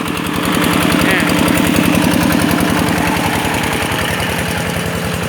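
A groundwater well pump engine at a drilling site in Phichit runs steadily, a loud, close, rhythmic mechanical chugging that holds constant from start to finish.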